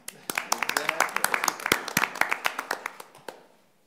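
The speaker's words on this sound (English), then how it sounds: "I'd like to have a round of applause for Pam." Applause from an audience at a school district board meeting, a scattered round of hand claps building and then tapering off, fairly near and moderately loud, with no talking over it.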